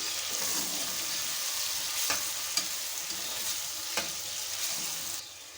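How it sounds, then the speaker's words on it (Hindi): Meat fries with ginger garlic paste for Karachi-style chana dal gosht, a steady close sizzle broken by a few sharp stirring scrapes and clinks of a spoon against the pot. "लहसुन अदरक का पेस्ट डाल देंगे इसमें, इसको भी फ्राई करेंगे।"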